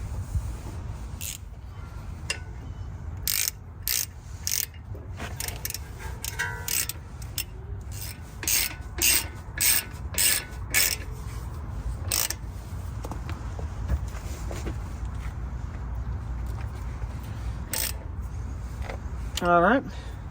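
A ratchet tightens bolts on the front brakes of a Honda Pilot, rattling out close, sharp clicking bursts in quick runs separated by short pauses.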